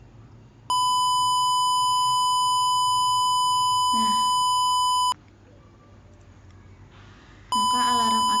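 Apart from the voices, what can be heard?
simulated morning alarm beeping from light sensor project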